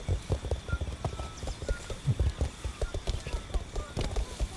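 Footsteps clop like a horse's hooves, a steady run of hollow knocks under loose chatter from several people during a long outdoor walk.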